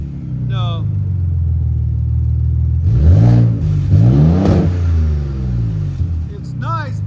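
Ford Raptor engine fitted with a Borla ProXS exhaust, idling as a deep, fairly muffled rumble, then revving twice in rising swells before settling back, with brief voices at the start and end.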